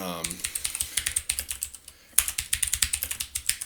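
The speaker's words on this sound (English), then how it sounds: "You hear that clacking? I bought a new keyboard." Rapid clacky typing on a mechanical keyboard, crisp keystrokes close by with a brief pause partway through.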